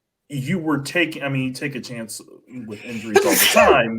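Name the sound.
sneeze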